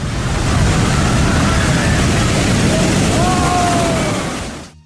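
Large ocean waves break on a beach, a loud, continuous roar of surf filling the whole clip before fading out at the end; a few faint tonal sweeps sit above the rumble.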